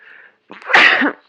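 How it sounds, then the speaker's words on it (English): A single sharp human sneeze, a brief inhaling hiss followed by an explosive burst, close and loud, springtime allergies blamed for it. "So I've been sneezing nonstop."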